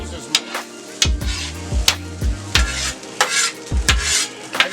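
Chorizo and eggs cook in a pan, a steady sizzle broken by repeated scraping stirs and clinks of a utensil against the pan, close and moderately loud, in uneven bursts.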